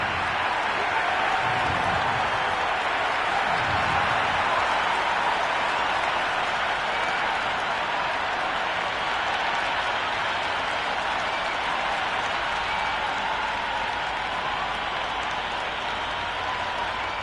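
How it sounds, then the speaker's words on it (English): A stadium crowd roars at a T20 cricket match between Australia and India at the Gabba in the game Cricket 26, a steady, dense wash of cheering and clapping that holds at even loudness throughout. "already the crowd making a hell of a racket"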